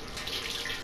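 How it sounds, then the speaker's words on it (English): A sink tap runs water in a short, steady hiss while someone rinses frosting off their fingers, heard close and alone. "I had to wash the frosting off my fingers"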